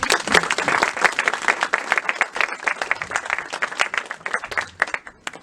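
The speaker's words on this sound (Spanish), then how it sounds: "al maestro Ulises Rogelio de la Serna José, para el cual pido un gran aplauso, por favor." A big burst of applause from an audience at a talk on Mexican constitutional reform, many hands clapping densely and steadily, loud and close, holding strong throughout before easing slightly at the end.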